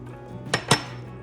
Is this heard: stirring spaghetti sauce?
yes